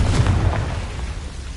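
A Confringo blasting spell going off in Hogwarts Legacy, a single heavy booming burst that rolls into a dense, low rumble and slowly fades over a second and a half.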